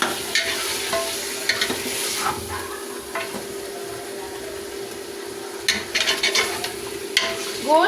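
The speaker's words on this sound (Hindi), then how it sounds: "अब हम इसे अच्छे से पहले भूनेंगे गोश्त को" Mutton pieces frying in oil with ginger-garlic paste for Pakistani daal gosht, a loud steady sizzle broken by repeated scraping stirs of a spoon against the pot.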